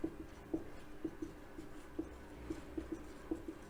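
Chalk or marker tapping and scraping on a board in a physics classroom, a run of short, fairly even strokes at close range with no voices.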